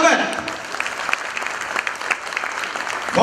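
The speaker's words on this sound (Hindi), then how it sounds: "और मार्टिन के अभिनय में महेंद्र रावत, जोरदार तालियां दीजिएगा।" An audience claps steadily and loudly for the actors at a short stage play, a dense spread of applause that carries through the whole stretch.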